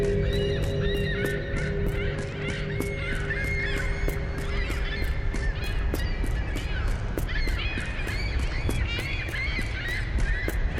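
Circling birds in The Lightkeeper honk and call continuously, overlapping at a steady moderate loudness above a droning ambient bed.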